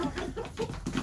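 Several chickens clucking close by in a henhouse, short overlapping throaty calls in an uneven chatter, with a rooster among them.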